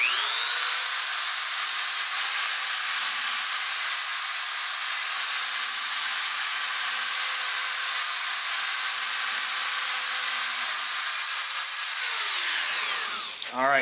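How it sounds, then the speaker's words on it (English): A 2x72 belt grinder with a 60 grit belt grinds a burr off metal, a loud, steady high-pitched whine running continuously for about thirteen seconds before spinning down abruptly at the end. "It doesn't take very long to remove that burr"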